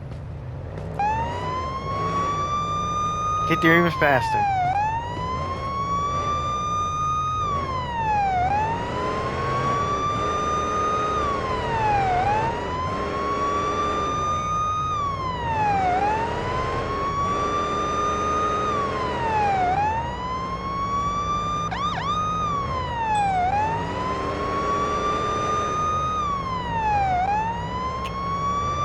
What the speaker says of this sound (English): We'll put on lights and sirens.